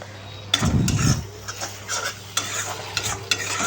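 Spices and vegetables frying in a pan for tempering, with a loud sizzle burst near the start, then steady frying crackle broken by several sharp stirring scrapes and clinks of a utensil against the pan.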